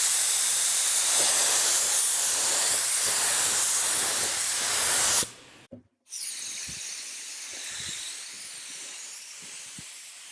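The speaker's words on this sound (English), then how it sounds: "When spraying, you want to do fast, even flow coats." Spray gun spraying Auto Air paint onto a panel, a loud continuous hiss that cuts off briefly midway, then resumes as a second steady pass.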